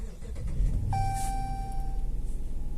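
A Dodge Challenger's engine cranks and catches, rumbling low and close, and a steady electronic chime sounds from the dashboard as it starts, then the engine settles into an even idle.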